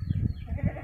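Etawa Kaligesing goat giving birth to twins, bleating in two short, loud, strained calls close by.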